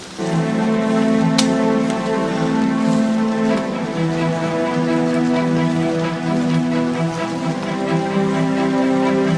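Steady rain hisses continuously across the whole stretch, a dense even patter with a low rumble underneath and no voices.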